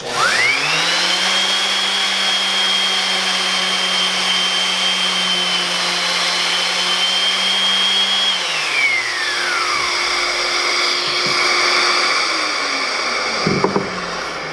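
Power sander whirring loudly and steadily up close while a sandpaper cleaning stick is pressed against its abrasive, then spinning down in pitch and fading, followed by a couple of small knocks.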